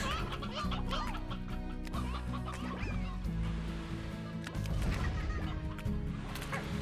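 Chickens clucking inside the video game Slime Rancher, a busy overlapping flock of squawks and clucks over steady game music and other in-game sounds, continuous and fairly loud throughout.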